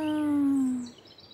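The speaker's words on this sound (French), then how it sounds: "Écoute-moi ces oiseaux un peu, hein." A single long, tonal bird call close by, sliding slightly downward in pitch, followed by quiet outdoor ambience.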